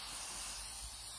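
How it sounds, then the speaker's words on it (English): A steady, airy hiss of silicone aerosol spray, fairly quiet and continuous for about a second with no other sounds. "the silicone spray will help you out with, just spray it."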